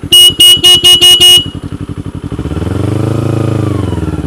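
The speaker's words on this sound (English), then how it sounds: "That fucking Ninja 250 horn sucks ass." A Kawasaki Ninja 250 motorcycle horn gives six short, loud, evenly spaced honks in quick succession, then the bike's engine rumbles at idle and swells as it revs up.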